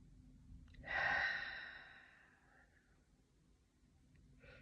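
A person takes one slow, deep breath, a soft airy inhale that swells and fades over a couple of seconds, followed by quiet and a faint second breath at the end.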